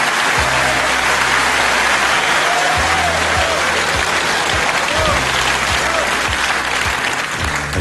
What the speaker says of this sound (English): I don't believe you're supposed to cheer a prayer.